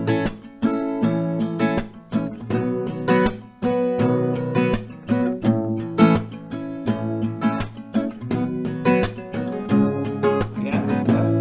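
Acoustic guitar strumming a repeating chord progression in a steady rhythmic pattern, full and close, played alone with no talking.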